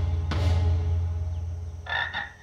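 A frog croaking in an animated fantasy series, heard as a low, steady throaty drone with a brief harsher croak and a second short burst near the end, fairly quiet and with no talk.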